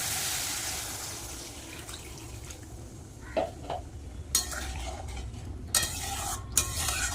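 Water poured into fried spice paste for a yogurt fish curry, a splash and pour at first, then a steady sizzle with sharp stirring scrapes and pan clatters; no one speaks.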